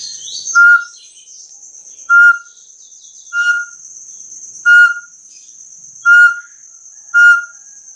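A homemade PVC whistle call for attracting macuco tinamous is blown in six short, spaced chirping notes, each a clear piping tone. A steady high insect-like drone runs behind them.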